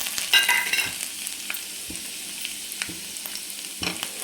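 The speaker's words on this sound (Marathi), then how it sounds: "तेल गरम झालं छान त्याच्यामध्ये मोहरी टाकू आपण आणि थोडासा लसूण असा कट करून घेतलेला आहे तो पण टाकायचा" Mustard seeds and cut garlic sizzle in hot oil for a tempering, a steady close hiss broken by small crackles and pops, with no talking.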